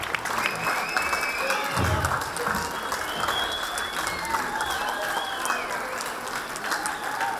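Theatre audience applauding steadily after a stage performance, a dense even patter of many hands at moderate level, with a few faint whistles or squeaks riding above and a brief low thump partway through.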